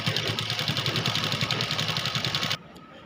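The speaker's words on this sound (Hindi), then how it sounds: "दोस्तों अब मैं इसके यहाँ से चारों तरफ स्टिचिंग कर लूँगी ताकि ये जल्दी से ख़राब ना हो" Sewing machine stitching around the edges of a belted salwar, running steadily at a fast rhythmic chatter close by for about two and a half seconds, then stopping abruptly into quiet room noise.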